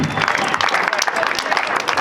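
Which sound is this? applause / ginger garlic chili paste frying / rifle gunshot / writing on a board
applause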